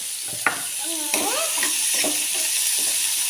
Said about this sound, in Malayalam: ആവശ്യത്തിനുള്ള ഉപ്പും ചേർത്ത് നല്ലപോലെ ഇളക്കാം